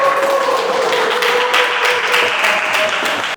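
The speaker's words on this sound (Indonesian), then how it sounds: "Oke, kasih tepuk tangan untuk kelompok Putri ya." A classroom group gives a short burst of applause for a presenting team, steady clapping from several people that cuts off abruptly at the end.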